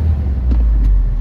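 A car's engine rumbles low and steady as a learner driver shifts into second gear during driving practice, a brief, close drone with no talk.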